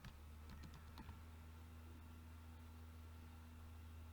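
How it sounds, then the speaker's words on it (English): A computer keyboard is typed on, giving a quick cluster of light clicks in the first second. A steady low hum carries on after the keystrokes stop. "as like I am typing here"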